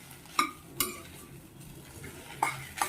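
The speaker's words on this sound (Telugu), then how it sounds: "ఈ ఇడ్లీ ముక్కలు కూడా కొంచెం వేయించుకోవాలి. గ్యాస్ సిమ్లో పెట్టుకోవాలి." A utensil stirs idli pieces in a pan over a low gas flame, giving a few sharp clinks and scrapes over a soft background.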